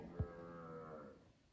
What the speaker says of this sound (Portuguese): Ó, já tá piando a vaca ali.